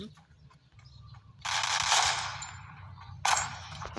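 AK rifle fire in a video game comes in two harsh bursts, a longer volley and then a short second burst, loud and close over a low rumbling background.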